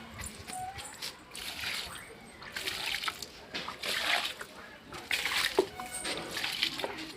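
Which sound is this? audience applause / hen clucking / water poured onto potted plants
water poured onto potted plants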